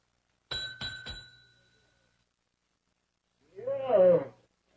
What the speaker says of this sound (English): Give that bell a whomp, Ellie.